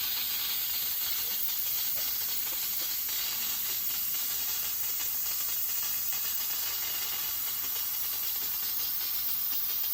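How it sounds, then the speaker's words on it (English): Steady, loud broadband hiss of steam escaping from a cooking pot, continuous and unbroken for the whole stretch, close by with no voices over it. "there's no opening this thing while all the steam is coming out of it."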